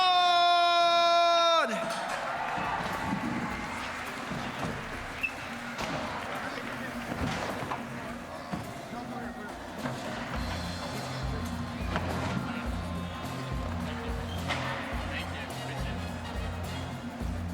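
A crowd cheers and roars for skateboarder Kristoffer Kroon at the X Games Simple Session 25 men's skateboard finals in Estonia, a sustained loud wash of noise over a pulsing music beat after a voice stops.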